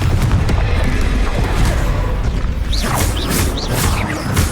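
A Confringo blasting spell goes off in Hogwarts Legacy combat on hard mode, a loud, dense booming burst with crashing debris and sharp magical zips layered over it, ending in a few quick high swishes.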